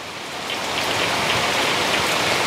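Heavy rain pours steadily on surfaces in the Mekong Delta countryside of southern Vietnam during a stormy day, a dense close hiss that swells slightly after the first half second, no voices.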